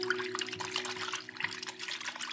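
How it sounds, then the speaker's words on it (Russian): Water is poured and splashes while soapy water is mixed for cleaning a Smart Cover, a continuous faint trickling and splashing with a steady low hum underneath and no talk. "Сделаем мыльную воду."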